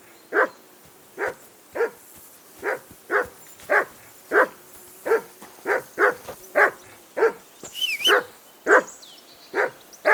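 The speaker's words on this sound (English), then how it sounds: "Whistle at that mutt of yours to stop barking!" A dog barks in Kingdom Come: Deliverance II, a steady series of about fifteen evenly spaced, moderately close barks continuing without a break and heard alone.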